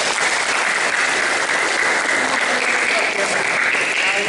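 Participants at a karate kata coaching clinic in Jombang break into steady applause, a dense, loud, even crackle of many hands clapping without pause throughout.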